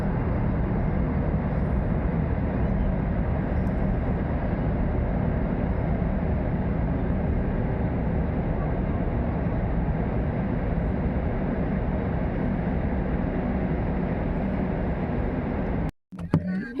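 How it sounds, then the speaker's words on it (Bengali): Train passing on a railway line, heard from a stopped car near Prayagraj during the Maha Kumbh: a dense, steady rumble and rolling clatter holds at constant loudness for about sixteen seconds, then cuts off abruptly. "ট্রেন লাইন ট্রেন লাইনে ট্রেন যাচ্ছে দেখো"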